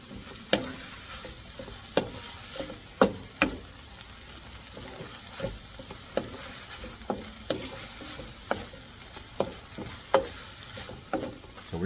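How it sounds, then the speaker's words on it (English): A spoon scrapes and knocks in a frying pan of seafood pasta with shrimp and mussels at a steady, repeated rhythm, each stroke over a soft continuous sizzle, close and clear with no talking. "So we're just gonna be mixing this one, guys, maybe for like a couple minutes"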